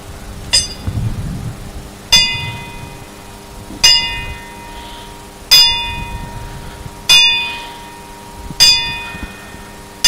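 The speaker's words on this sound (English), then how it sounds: "Master Sergeant Rhodes, sound the bell." A ship's-style bell rings six times at slow, even intervals at a veterans memorial ceremony, each clear strike ringing out and fading before the next.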